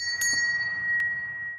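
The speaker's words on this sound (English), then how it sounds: "every time a bell rings" A small bell rings once with a clear, sustained chime and a faint second strike, heard quietly and alone.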